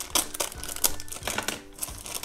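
A small plastic packet from a surprise toy set crinkles and crackles in bursts as it is torn open, close and fairly loud, with no talking.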